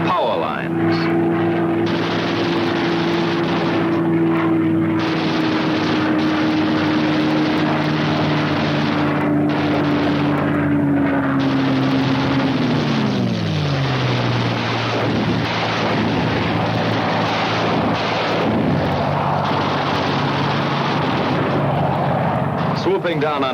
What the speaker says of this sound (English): Skimming along at maximum speed, the fighters pair off and go to work cutting vital Jap lifelines